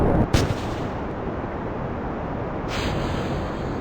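A solid rocket stage separates in Kerbal Space Program: a sharp thump from the decoupler cuts through a steady, dense rocket engine roar, followed by a brief swell of hiss as the roar continues.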